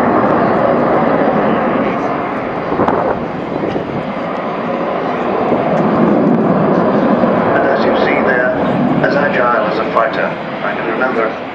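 Avro Vulcan XH558 bomber flying a display at Farnborough Airshow 2012, a loud, continuous broadband jet roar that holds steady throughout, with a person speaking over it.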